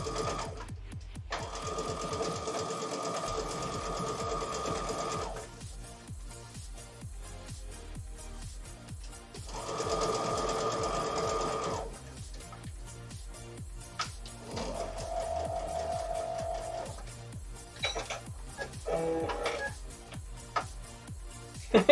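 Sewing machine stitching quilt pieces in bursts of steady rapid whirring, separated by short pauses, with a few clicks and handling noises between runs.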